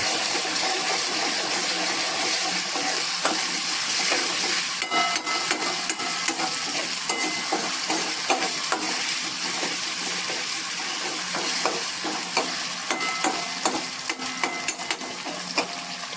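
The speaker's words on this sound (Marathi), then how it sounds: "एक चमचा आलं लसणाची पेस्ट त्याच्यात घालायची आणि तिचा कच्चेपणा मोडेपर्यंत ती परतायची आहे" Ginger-garlic paste sizzles with translucent onion in a hot pan, a steady frying hiss punctuated by scattered clicks and scrapes of stirring, with no talking.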